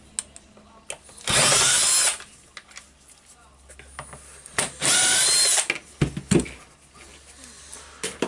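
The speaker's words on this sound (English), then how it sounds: "as I am now with a PH2 bit, I will unscrew the screws here" A power screwdriver with a PH2 bit backs screws out of a Hitachi H45MRY demolition hammer, with two loud whirring bursts about a second long, clicks and handling noises in between, and some speech in the background.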